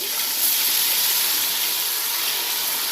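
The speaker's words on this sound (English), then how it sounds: "Fry the onion." Onion paste fries in heated oil in a bowl for chicken dum biryani, producing a dense, steady sizzling hiss that stays loud and unbroken throughout, with no voices.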